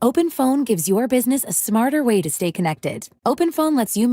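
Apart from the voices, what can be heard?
None of the usual background noises is heard.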